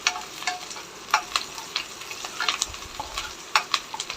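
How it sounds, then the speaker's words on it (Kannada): Garlic, curry leaves and Guntur chillies fry in oil in a pan for Guntur chicken, a close, continuous sizzle punctuated by quick scraping stirs and light ticks from the spatula. "ನಂತರ ಅದಕ್ಕೆ ಕರಿಬೇವು ಮತ್ತು ಗುಂಟೂರು ಮೆಣಸಿನ್ಕಾಯಿ ಅದನ್ನು ಹಾಕ್ಕೊಂಡು ಫ್ರೈ ಮಾಡ್ಕೊಳ್ಳಿ"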